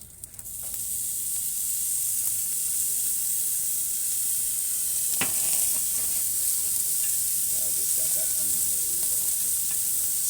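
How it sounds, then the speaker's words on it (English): Flank steak and asparagus sizzle steadily on a hot oiled grill, a constant loud frying hiss with occasional crackles and pops, heard alone without talk. "And we are just going to let that sizzle"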